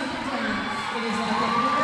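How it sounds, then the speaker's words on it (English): Spectators at a roller derby qualifying bout cheer and whoop loudly in a steady roar for a jammer, filling a large indoor hall. "she's getting some reaction from the crowd"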